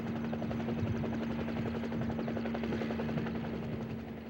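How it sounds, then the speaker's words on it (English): A helicopter flies during the 1975 US withdrawal from Saigon, its rotor and engine making a steady, loud, continuous drone that fills the whole stretch with no voices. "And so I got on the chopper and came out."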